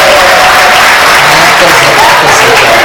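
A large crowd at a Rwandan wedding claps loudly and continuously, a dense roaring wash of hands filling the space without pause.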